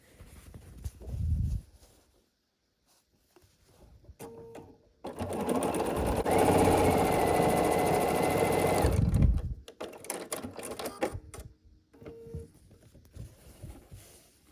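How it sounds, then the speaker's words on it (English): A sewing machine stitches a pumpkin block for an autumn quilted table runner, running in a steady burst of rapid mechanical clatter, framed by short quieter stops, handling noises and brief starts. "Now you can sew it to the first pumpkin in this block."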